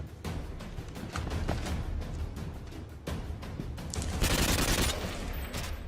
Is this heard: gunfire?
yes